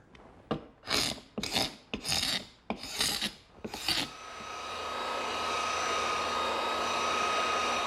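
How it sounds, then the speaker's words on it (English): A scraper rasps excess dried glue off a wooden harvest table top in about six quick, loud strokes, followed by a steady rising whir of a power tool starting up. "the first thing I'm going to do is scrape off any excess glue"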